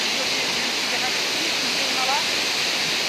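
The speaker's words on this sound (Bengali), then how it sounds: "ওইদিকে যাচ্ছে জল, ওইদিকে যাচ্ছে রাস্তার নিচে দিয়া" Water rushing steadily as it flows away beneath a road, a loud, unbroken broadband roar like a small waterfall or stream, close by and without pauses.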